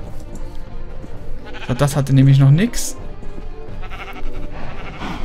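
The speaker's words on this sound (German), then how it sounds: "Jetzt haben wir zwei neue Schafe." A sheep in the video game Minecraft gives one loud bleat mid-way, heard under someone talking over game background sounds.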